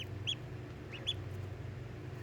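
Newly hatched, still-wet ducklings give two faint, high peeps over a low steady hum, likely from warming lamps.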